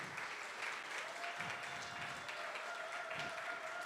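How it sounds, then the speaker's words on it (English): A warm round of audience applause at a church gathering, a steady patter of many hands clapping at moderate distance, sustained through the whole stretch with a faint tone underneath. "in addition, a very warm round of applause from CSL"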